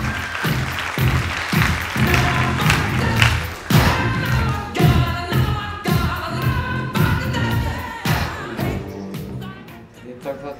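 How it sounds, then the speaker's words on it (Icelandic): Applause fills a school song contest hall after a duo's performance, loud and close with sharp thumps and uneven bursts of clapping that rise and fall, while brief voices come through faintly underneath. "Gefðu gott klapp, Friðrik Ágúst og Matheus."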